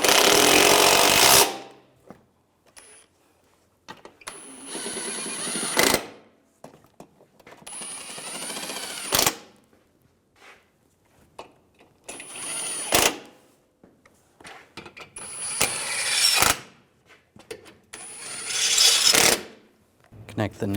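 Bolts on a 2013-2016 Dodge Dart 2.4L AC condenser are tightened with a ratchet, giving several bursts of fast clicking that alternate with quiet gaps and brief handling noises, close up.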